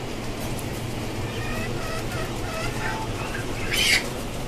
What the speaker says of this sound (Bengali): এই যে কিছু দেশি মুরগি,